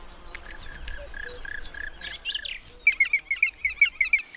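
Black woodpecker chicks call from inside a hollowed-out tree nest in the mountains. Repeated high chirping cries come in steady bursts, getting louder and quicker over the last second and a half, with faint background birdsong.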